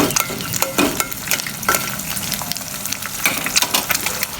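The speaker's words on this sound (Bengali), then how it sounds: "এখন মা নুডলস রান্না করতেছে" Noodles cook in a pan with a busy sizzle and frequent clattering stirs, a close, uneven kitchen sound of frying and scraping.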